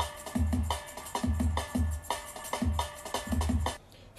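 Chopped drum break rearranged into new patterns in Ableton, punchy kicks and snares in a steady looping groove over a bright, busy top end, loud and close, stopping abruptly near the end.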